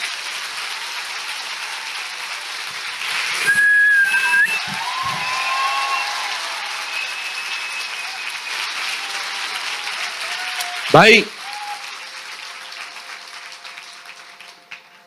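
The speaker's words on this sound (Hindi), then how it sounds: "आइए प्रभु के लिए एक जोरदार ताली बजाएंगे।" Church congregation clapping loudly for several seconds, with a few sharp whistles cutting through, then a brief burst of handling noise; someone speaks a word near the start.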